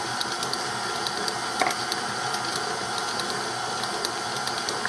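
A kitchen mixer runs at its slow stir setting through butter cookie dough, giving a steady, even whirring hum with faint ticking and no speech.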